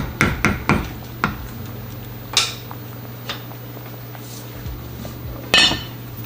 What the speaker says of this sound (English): we're just gonna put the lid back on and let it finish